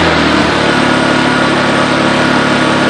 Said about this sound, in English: You can hear it running at a little higher RPM there.